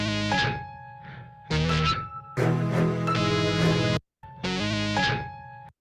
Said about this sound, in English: and then you hear a vocoder to sound like a distorted guitar